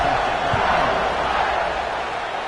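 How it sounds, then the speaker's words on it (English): Stadium crowd noise from the NCAA 26 college football video game, a steady broadband buzz of many voices just after a score, holding at a constant level for the whole stretch with no single standout sound. "this crowd is buzzing after that last score"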